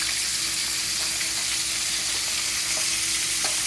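Shrimp for tempura shallow frying in oil, a steady dense sizzle with a few faint pops and ticks scattered through, continuous and close with no voices.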